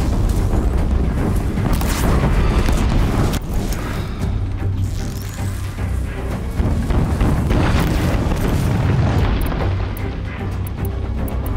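Shatter arrows bursting in Horizon Zero Dawn, a loud, dense run of booming, crackling explosions that carries on without pause through the whole stretch, with no talk over it.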